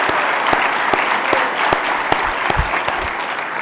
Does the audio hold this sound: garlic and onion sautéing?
no